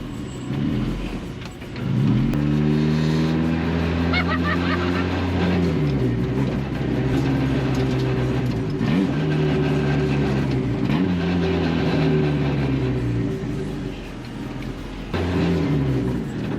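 A Mazda Miata hillclimb build revs and accelerates through the gears on a neighborhood lap, its engine note rising in repeated sweeps broken by shift dips, loud and close from inside the car.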